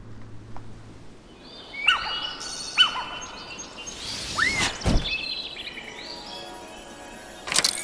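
Bird calls from the fantasy video game Jade Dynasty: a series of sharp chirps and tweets, then a louder squawking call, sounding close against a quiet background with no talking.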